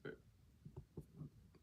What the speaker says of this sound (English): I think I'm about to burp.